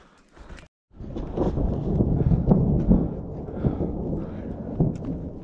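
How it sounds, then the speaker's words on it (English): Distant thunder in the mountains near Lone Cone, heard as a steady low rumble that swells and fades over several seconds, with no voices. "And I'm hearing just all this thunder."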